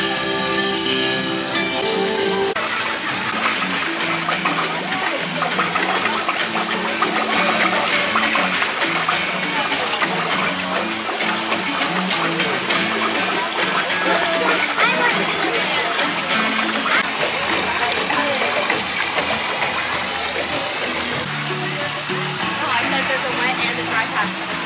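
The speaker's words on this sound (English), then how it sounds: "This section literally plays music when you touch the water." An interactive water feature at the Moana-inspired Journey of Water attraction at Disney plays chiming, bell-like musical tones over constant splashing and flowing water, with people talking nearby.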